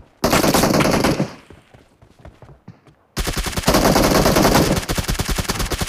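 Loud bursts of automatic gunfire in a one-on-one shooting video game, a dense rapid volley that fades into scattered shots before a second sustained barrage erupts and runs to the end.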